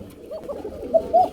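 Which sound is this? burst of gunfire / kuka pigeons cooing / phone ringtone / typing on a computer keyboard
kuka pigeons cooing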